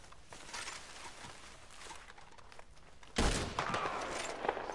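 Gunfire in the Western video game Red Dead Online: a sharp, loud shot bursts in after a stretch of quieter game ambience, followed by further scattered shots and noisy activity.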